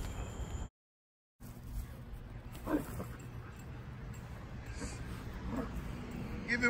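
A guard dog puppy in protection training lets out sharp, close barks and yips at intervals, over steady background noise and possible voices.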